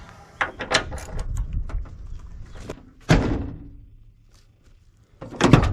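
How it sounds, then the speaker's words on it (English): The door of a Ford Ranger pickup under rebuild outdoors is swung open and shut, giving a sequence of clunks and latch thuds, with a louder slam near the middle and another at the end, close by. "So the door opens and shuts good"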